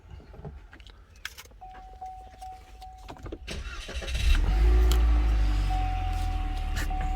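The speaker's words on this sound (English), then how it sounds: "we're gonna go ahead and start it first" Keys jingle and click near a 2014 Cadillac CTS 4-cylinder before its engine cranks and fires, settling into a steady, deep low idle rumble that carries to the end.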